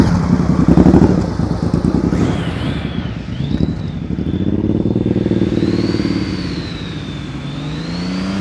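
A motorcycle engine hums steadily at low speed during slow-speed riding practice, with revs rising and falling and the clutch easing out, under heavy wind buffeting on the microphone.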